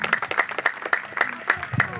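A crowd claps steadily at the opening of a local cricket match, rhythmic hand claps close by, mixed with voices talking and calling over the applause.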